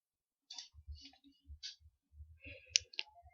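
Computer mouse clicking during a Windows 10 software setup, a quick series of small sharp clicks, close and fairly faint, with a couple of louder clicks near the end.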